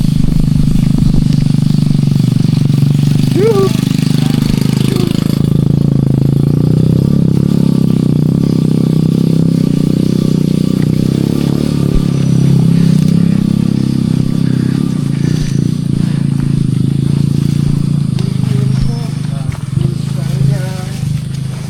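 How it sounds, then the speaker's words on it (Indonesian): Motorcycles rumble along a mountain hiking trail on Mount Argopuro via Baderan with a steady, loud, close engine drone, plus rattles and scrapes throughout. Voices talk over the engine noise. "Oh, enggak tuh, motor tok."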